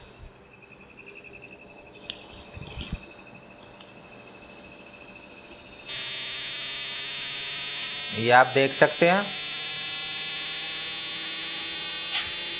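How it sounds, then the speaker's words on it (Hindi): Repaired appliance compressor starting up: a low steady hum that steps up louder partway through and keeps running with tonal whine, someone talking briefly over it. "कंप्रेसर स्टार्ट हो चुका है, आवाज़ सुन पा रहे होंगे आप"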